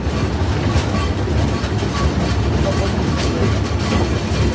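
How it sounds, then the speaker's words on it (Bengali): The Chitra Express, an intercity train running Khulna to Dhaka, pulls out of Jamuna Bridge West station with a loud, steady rumble and rhythmic clickety-clack of wheels on rail, heard from close beside the track. "যমুনা সেতু পূর্ব স্টেশন পশ্চিম স্টেশন থেকে ছেড়ে যাচ্ছে চিত্রা এক্সপ্রেস।"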